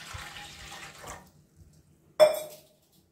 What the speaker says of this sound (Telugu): మనం ఇప్పుడు ఒక ఇడ్లీ పాత్ర తీసుకొని అందులో వాటర్ పోసుకుందామండి